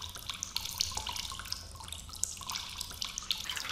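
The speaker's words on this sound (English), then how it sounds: "let's get some water sound effect noises for when she comes back" Running water from a tap splashing steadily into a sink, with scattered drips and trickles, continuous and fairly close, no voices.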